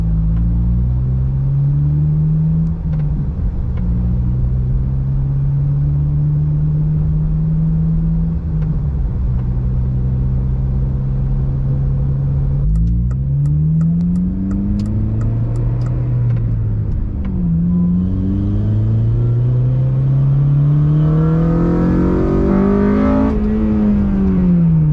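A Honda Civic with new wheels drives off, its engine revving up through several rising and falling gear sweeps, steady and fairly loud throughout with no voices.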